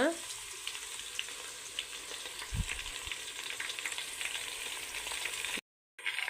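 Onions, green chillies and fenugreek leaves frying in a pan give a steady crackling sizzle with a few stirring knocks, close and moderately quiet, with a brief dropout near the end.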